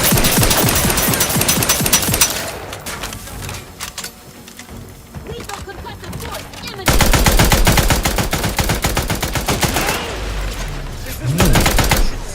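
Heavy gunfire in The Outer Worlds 2: loud machine-gun bursts and rapid shots rattle nearby, dip into a quieter stretch, then return strongly, with a voice speaking over parts of the fire.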